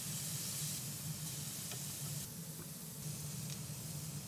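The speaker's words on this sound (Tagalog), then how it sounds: "Tapos gimon na siyang prituhon. Gamay ra nga oil." Shrimp frying in a little oil for a shrimp with alavar sauce dish, giving a steady, close sizzle that hisses continuously with small crackles throughout.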